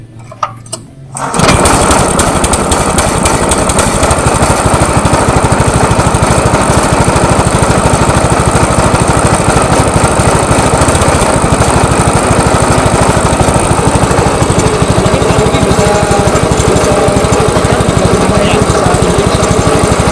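A SAAM PS40 brush cutter engine starts and then runs at a loud, steady, buzzing two-stroke drone that fills the rest of the clip, close by.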